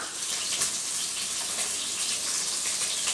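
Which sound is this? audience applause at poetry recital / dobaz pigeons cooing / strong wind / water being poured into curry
water being poured into curry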